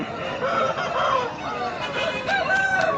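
Hens cluck and roosters crow repeatedly at a crowded chicken market in Pileru, the calls overlapping near and far above a low murmur of people.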